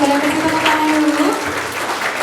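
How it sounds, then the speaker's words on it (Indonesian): An audience at a public university lecture gives a steady round of clapping that holds at an even level throughout, with a faint tone audible underneath. "boleh kasih tepuk tangan dulu"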